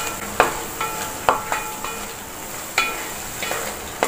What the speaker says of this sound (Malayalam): ഞാനൊരു 10 മിനിറ്റ് ഇതിങ്ങനെ വഴറ്റി കൊടുത്തിട്ടുണ്ട്